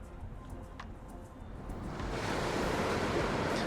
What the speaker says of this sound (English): getting down as close as I can to the waves and the sea